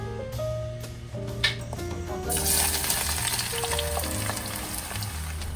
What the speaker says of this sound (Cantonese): 炸嘅時候油溫要夠熱，先至放落去，慢慢炸到佢變金黃色。